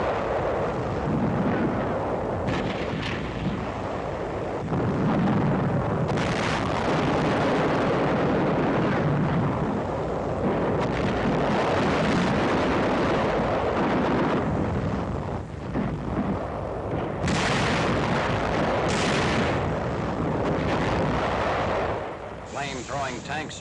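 Japanese 77mm guns and combat gunfire in a 1945 Pacific battle rumble and boom continuously, with repeated heavy blasts under a dense, noisy wash.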